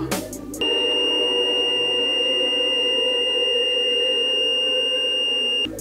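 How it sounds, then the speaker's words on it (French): The monolith's strange signal from 2001: A Space Odyssey: a piercing, steady electronic tone with ringing harmonics, held loud and unbroken for about five seconds after a brief noisy onset. "l'objet envoie un signal très étrange"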